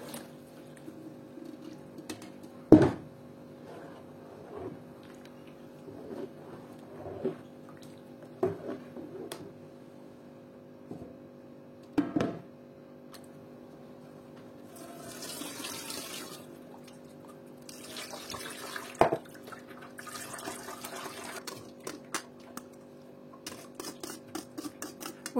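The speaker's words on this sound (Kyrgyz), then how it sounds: "Андан соң биз калган суубуздун баарын кошуп, жакшылап аралаштырып, андан кийин биз сеткадан өткөрүп алабыз." Homemade apricot juice being strained through a mesh sieve in a kitchen: scattered drips, splashes and light clatters over a faint steady hum, with brief wetter trickling bursts toward the end.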